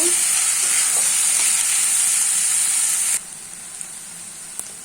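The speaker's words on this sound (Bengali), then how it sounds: "আমি আলু পেঁয়াজটা ভালোভাবে ভেজে নিব।" Potatoes and onions sizzle and crackle loudly in a hot pan, a steady frying hiss that drops suddenly to a quieter sizzle with a few light clinks.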